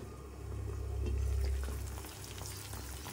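Banana kesari with raisins roasts in a pan, giving a soft, continuous sizzle that swells slightly in the middle before settling back, quiet and close.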